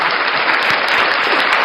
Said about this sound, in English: Clap her hands for her